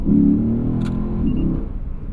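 A 2020 Lexus RC F Track Edition's engine revving on snowy, winter-like roads, a loud close rumble that surges briefly then settles into a steady throb.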